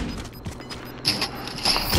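Rifle fire in the Call of Duty video game sounds as a few sharp cracks and thuds over a busy battle background, the loudest shots landing near the middle and end.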